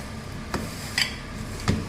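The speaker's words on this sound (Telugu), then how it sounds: "ఇందులో వేసి శుభ్రంగా కలిపేస్తాం" Raw mango pieces tossed with salt, turmeric, chilli powder, mustard and fenugreek powder and oil for pickle, giving three soft scraping stirs against a pot in a quiet kitchen.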